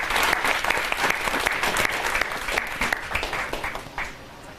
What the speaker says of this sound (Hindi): तालियां बजा के मुझे आगे